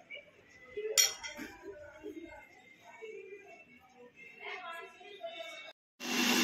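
Metal cutlery clinking against plates during a meal of chilli chicken, puri and sweets, with scattered taps and scrapes under ongoing conversation and a sudden burst of noise at the end.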